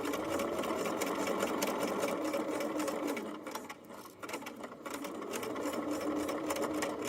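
A sewing machine runs fast and loud while it stitches reinforcement on webbing for a fanny pack, with a continuous close whir and one brief slowdown midway before it picks up again; no one speaks.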